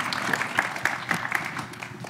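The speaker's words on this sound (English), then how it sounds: "A round of applause for Aaliyah, everyone." An audience applauds, a steady spatter of many hands clapping that stays fairly even and eases slightly toward the end, heard close and moderately loud.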